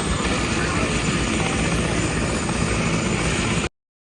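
Police helicopter heard close and loud, a dense, steady rotor and engine roar that runs unbroken for several seconds before cutting off abruptly.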